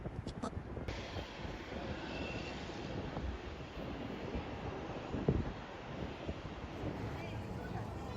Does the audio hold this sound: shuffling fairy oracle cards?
no